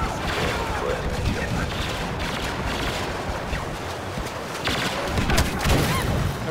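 Barrage fire raining on an AT-AT walker during a Walker Assault on the Forest Moon of Endor in Star Wars Battlefront, a dense stream of rapid blasts and explosions, loud and continuous, with a few sharper bangs near the end.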